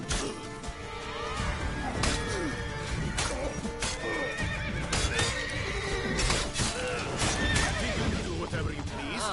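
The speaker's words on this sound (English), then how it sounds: "Good job, horse, kicking him." A horse in the Witcher 3 video game neighs and whinnies loudly while kicking, with hoof clatter, dense game sound effects and voices layered throughout.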